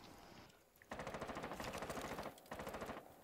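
Automatic gunfire in the tactical shooter game Rainbow Six Siege fires in two long, rapid bursts with a steady rhythm, loud and close, with a short pause between them.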